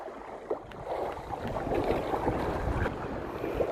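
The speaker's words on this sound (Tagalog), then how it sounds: "Lumakas ng hangin." Strong wind gusts over a small boat at sea during jigging, a steady rough roar buffeting the microphone and rising slightly as it goes on, with no voices.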